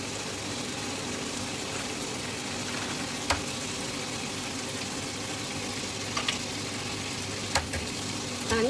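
Eggs frying in hot oil in a pan for egg masala, a continuous even sizzle close by with a few sharp ticks and pops, no talking.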